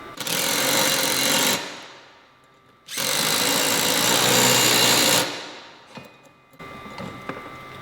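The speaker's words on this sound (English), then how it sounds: "Now I'm going to drive these nuts on about 1 inch to 1 1/4 inches with my 1/2-inch socket and impact" An impact wrench with a 1/2-inch socket drives nuts onto bolts in two long, loud, rapid hammering bursts close by, then a brief quieter rattle and a third shorter run.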